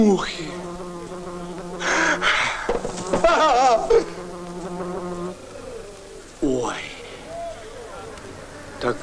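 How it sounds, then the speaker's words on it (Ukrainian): Flies buzz in a steady, droning hum throughout, joined by bursts of louder background commotion and brief exclamations, fairly loud and close. "О, мухи."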